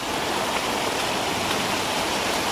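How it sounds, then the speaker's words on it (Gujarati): Rainwater rushing down a village road during a heavy monsoon downpour, a dense, steady roar of flowing water, loud and close, with no voices. "મિત્રો રસ્તામાંથી એટલું પાણી આવે"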